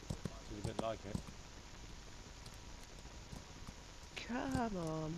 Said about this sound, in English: can you hear the rocks change under your feet? Yeah, clippity clop.